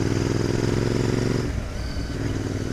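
A Royal Enfield Interceptor 650 motorcycle engine runs steadily on a country road test ride, loud and close with a throbbing drone that eases off partway through, then holds a lower, rougher rumble.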